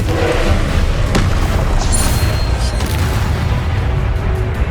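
The Confringo spell explodes in Hogwarts Legacy, a loud, dense roaring burst of game noise with thumps sustained throughout, alone with no talk.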